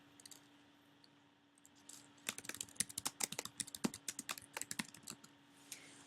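Typing a task into Gmail on a computer keyboard, a quiet rapid burst of key clicks after a brief near-silent pause, with an irregular rhythm that tapers off toward the end, with no talking.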